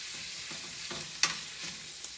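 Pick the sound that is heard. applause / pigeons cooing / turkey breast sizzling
turkey breast sizzling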